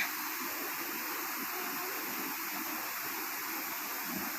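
A natural waterfall and stream pour steadily, a constant broadband roar of rushing water, with no other sounds.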